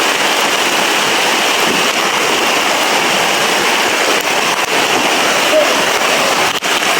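Heavy outdoor rain pours in a loud, constant hiss close by, filling the whole stretch without a break.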